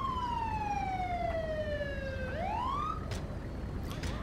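An ambulance siren in the video game GTA 5 wails with a long descending tone that then sweeps back upward, loud and close over steady road noise, with no talk.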